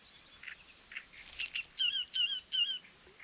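Great reed warbler chicks and parents call at a nest in wetland reeds. High, thin peeps and chirps repeat in quick bursts, with several voices overlapping close by.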